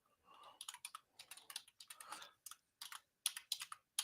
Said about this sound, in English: I'm doing a little typing here as we talk.